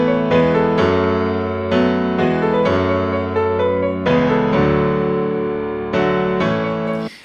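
Sampled acoustic piano from the free Sound Magic Piano One (Neo Piano) plugin plays sustained, resonant chords that shift every second or so, loud and clear with no voices.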